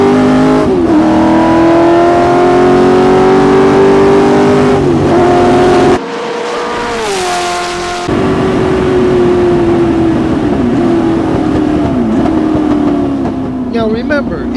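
A Ford GT40 race car laps the four-mile Road America circuit, its engine loud and close with a rising and falling roar through gear changes and shifts, a brief lift-off mid-lap, and a voice audible over the engine at times.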